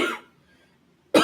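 A single short cough, then a pause of near silence before a second sharp cough bursts out close to the microphone.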